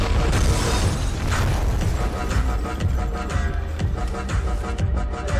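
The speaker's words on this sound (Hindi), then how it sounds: "ये क्या आते ही धमाका हो गया।" Heavy booming blasts and crackling debris from a bomb explosion in a video game fill the scene, a dense, loud explosive rumble that continues throughout with no speech.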